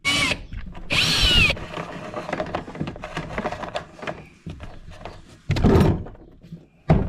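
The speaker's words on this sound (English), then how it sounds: "I drill the hole" A power drill whines in short bursts, one near the start and another near the end, with clattering and handling noises in between.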